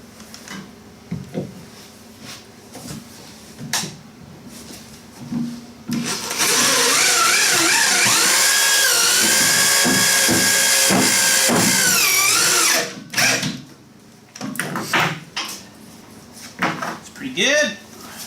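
A power drill drives screws into plywood on a mini trailer build, a loud steady whine lasting several seconds mid-clip, with scattered knocks and handling noises and someone talking before and after.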